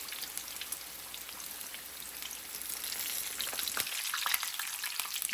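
Several pieces browning in hot oil for homemade Chinese-style food, a steady dense sizzle and crackle that runs throughout and grows slightly louder toward the end, with no talking.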